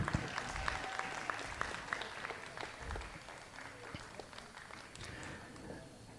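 Convention audience at a Texas-Oklahoma Key Club leadership session gives Jessie Funk a round of applause, scattered clapping heard at a distance, fairly faint and thinning out, with some voices underneath.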